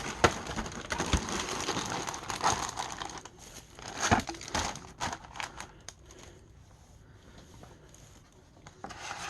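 Plastic packaging around a Titanic model kit crinkles and rustles in close bursts of handling, loud at first, then quieter, with scattered sharp crackles.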